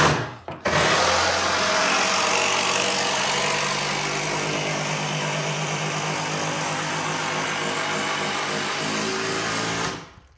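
Power tool driving SDS structural screws through wood into shelf posts, one steady loud whirring run lasting about nine seconds with a sharp start and stop, heard alone without talk.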